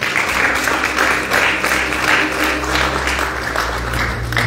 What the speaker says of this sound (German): Wollen wir dafür einen Applaus geben?